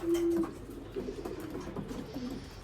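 A racing pigeon in a loft gives a short, clear coo at the start, followed by fainter cooing and soft rustling against a quiet indoor background.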